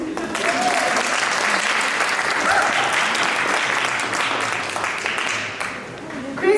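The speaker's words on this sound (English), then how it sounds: "Another round of applause, please." A crowd applauds steadily for several seconds, a dense wash of clapping that fades slightly toward the end.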